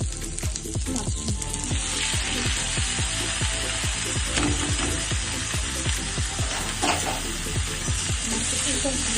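Mushrooms crackle and sizzle loudly in a pan of hot butter and garlic, with a continuous close frying hiss broken by rapid clicking stirs and scrapes.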